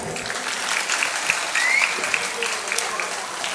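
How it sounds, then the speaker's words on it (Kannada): Audience at a Karnataka Sangha literary gathering clapping after a Kannada folk dance, steady applause throughout the hall with a few sharp whistles on top. "ದೊಡ್ಡ ಚಪ್ಪಾಳೆ ಮತ್ತೊಮ್ಮೆ."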